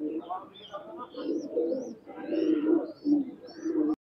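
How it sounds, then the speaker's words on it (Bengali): Lakha Maya highflyer pigeons coo in a loft, a steady run of soft, rolling calls close by, rising and falling in bursts, with human voices mixed faintly underneath. "সুপার কোয়ালিটির কবুতর, লাখা মায়া কবুতর"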